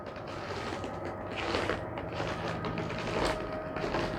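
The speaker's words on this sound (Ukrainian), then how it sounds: "Я зараз вам пройдуся, щоб вам сніжок порепів." Footsteps crunch and creak over frozen snow in hard frost in a steady walking rhythm, close by, with no talking, in Michigan.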